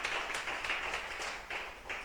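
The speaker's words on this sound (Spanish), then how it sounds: "Un aplauso al Señor" Congregation applauding in a church service, a steady broadband patter of clapping that swells in short bursts, fairly faint and without speech over it.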